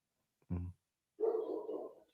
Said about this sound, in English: That's your dog barking?